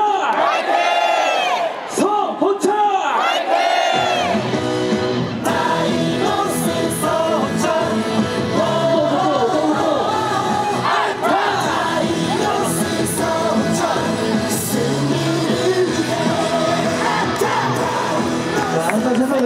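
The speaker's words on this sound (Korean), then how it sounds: "우리 팬분들의 마음가짐 한번 힘차게 외쳐봅시다" A large crowd at an NC Dinos baseball game chants and cheers for player Seo Ho-cheol, with loud, sustained massed voices and shouts carrying steadily throughout.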